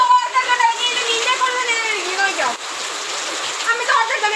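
Steady, dense rainfall hisses throughout, with voices talking over it.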